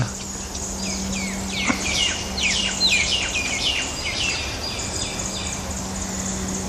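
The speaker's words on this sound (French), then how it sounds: "il y a un zozio qui fait un boucan d'enfer dans ce cocotier" A bird in a coconut tree near the Saint-Paul pond gives a loud, rapid series of high, sharp calls. A steady background hum and insect noise run underneath.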